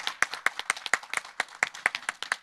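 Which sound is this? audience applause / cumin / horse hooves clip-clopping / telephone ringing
audience applause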